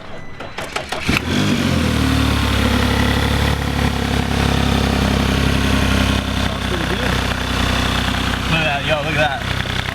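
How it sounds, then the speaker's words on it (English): 2019 Audi RS5, auction-bought and badly damaged, cranks and fires with a loud rising roar, then settles into a steady rumbling idle, close by, with a few faint voices underneath. "I'm gonna go ahead and give it a start and run to the engine bay and hear it."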